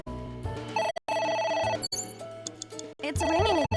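A telephone rings in the video game AI Somnium, repeated electronic ring tones in short bursts under talking voices.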